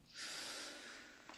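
A sharp sneeze bursts out and trails off over about a second, close and fairly loud, with a brief breathy catch at the end and no speech.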